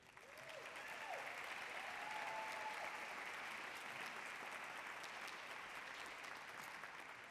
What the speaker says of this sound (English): let's give another round of applause to our Cypress-Fairbanks ISD 75th anniversary Spotlight teachers